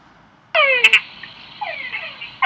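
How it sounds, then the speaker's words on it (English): Recorded call of a Kangara frog: a loud, clear croaking call starting abruptly, with harmonic sweeps and a couple of sharp clicks, then trailing lower pulses, played alone. "this is a Kangara frog. Okay, and that's its call"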